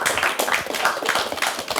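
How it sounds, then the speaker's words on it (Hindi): An audience at a national children's award ceremony claps for a 16-year-old girl who climbed Mount Everest: brisk, dense applause with sharp individual hand claps, loud and close, continuing without a break. "ग्रेट, तालियां।"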